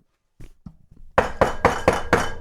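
A fist knocks on a table, imitating pounding on a front door: a few soft taps, then five loud, heavy thumps in an even rhythm, close up and alone.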